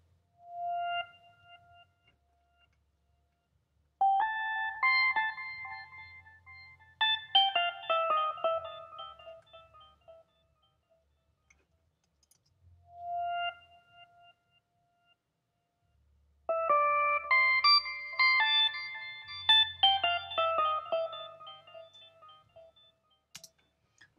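Synth pad built from a very quiet sine wave and two square waves, one slightly detuned, with a simple delay: sparse, soft tonal notes in two short phrases separated by near silence.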